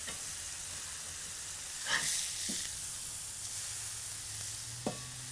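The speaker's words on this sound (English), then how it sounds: "while the bacon's cooking away" A bacon patty weighted down on a griddle sizzles continuously at close range, with a few brief scrapes and clicks on top of the steady frying hiss.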